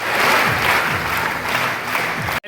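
Crowd clapping fills the air at a village honour ceremony in Rajasthan, where guests are garlanded with traditional safa turbans; steady, dense applause runs throughout before cutting off abruptly near the end.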